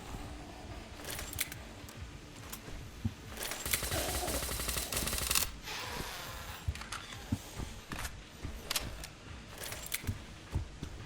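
Bursts of video-game gunfire from a weapon in the Death Scourges demo, a rapid automatic volley building in the middle and then scattered shorter shots, fairly close and loud over a busy game soundscape.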